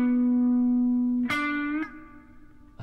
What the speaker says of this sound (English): Okay, and that's your quarter bend.